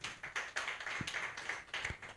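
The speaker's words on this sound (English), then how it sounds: "I think we can clap for that." Scattered clapping from an audience, a steady patter of many hands with a couple of sharper thumps, moderately faint and without voices.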